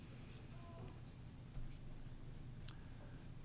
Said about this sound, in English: I'm using the side of my pencil right here to draw the bangs